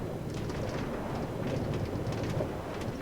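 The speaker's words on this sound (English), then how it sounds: "Another trip on the train." A minecart train rolls along rails in Minecraft, a steady, even rumbling clatter with a faint higher chatter running continuously at moderate level, no voices.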